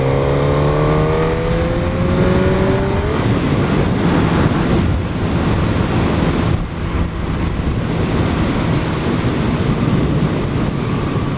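A 2007 Suzuki GSX-R1000 K7 motorcycle engine roars loud and continuous through twin exhaust pipes and a catalytic converter, revving upward at first and then holding a steady high drone mixed with heavy wind rush while riding.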